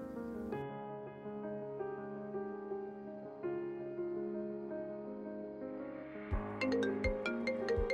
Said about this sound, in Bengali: ফোন এসছে তোর।